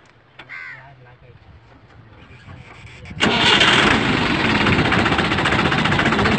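A tractor engine cranks briefly and catches, rising from a quiet start into a loud, steady rumbling idle up close, while crows caw in the background.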